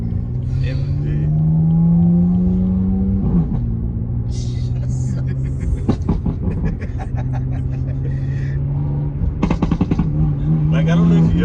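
A BMW M3 F80 with an equal-length exhaust drones and revs loudly, then lets out two bursts of rapid, sharp pops and crackles, with voices talking over it.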